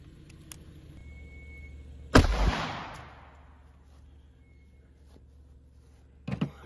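A single loud gunshot from a Ruger LCR snub-nose revolver with a 1.9-inch barrel, firing a 38 Special +P 125-grain XTP load, a sharp blast with a reverberant tail, then quiet, ending with faint handling clatter.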